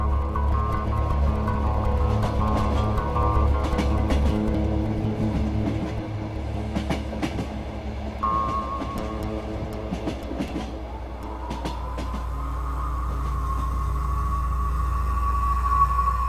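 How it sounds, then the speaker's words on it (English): A train runs steadily on rails with rhythmic clickety-clack and a deep continuous rumble, plus a faint metallic squeal rising near the end. "the Koryo Saram called their transport the ghost trains."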